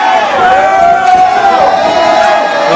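A wrestling crowd at an IWA Caribbean Championship match cheers and roars loudly and continuously, with an announcer talking over the noise.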